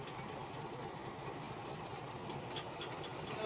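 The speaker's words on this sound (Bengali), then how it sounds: "চলো ট্রেন আমাদের ছেড়ে দিল।" A train pulls away on a single-line track at Nishangara station in Uttar Pradesh. A steady, faint rolling rumble carries light rhythmic clatter over the whole span.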